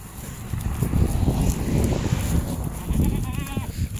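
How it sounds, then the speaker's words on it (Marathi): Goats bleating over a blustery outdoor background, with a clearer wavering bleat near the end. "बघू शकता मित्रांनो शेळ्या"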